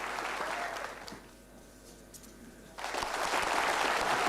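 Applause from the audience at an Insurance Day award ceremony, a moderate wash of clapping that fades to a quieter stretch midway, then swells back louder toward the end.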